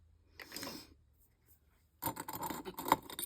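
Scissors cutting fabric for card swatches, a brief soft snipping rasp, then a pause, then a longer run of close, crisp crunchy cuts.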